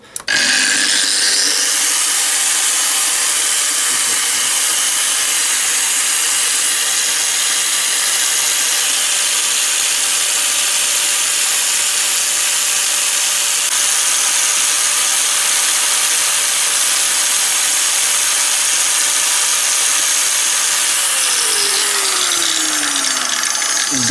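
Dnipro-M GS 140 SE angle grinder runs at no load with a loud, steady high-pitched whine. It spins up at the start and winds down near the end.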